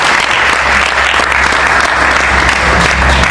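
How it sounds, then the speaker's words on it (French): Loud, sustained applause from a large crowd greeting a sailor's arrival at the finish of the Vendée Globe 2024-25 race, steady dense clapping throughout with no pauses. "Applaudissements effectivement pour Sébastien, bravo encore."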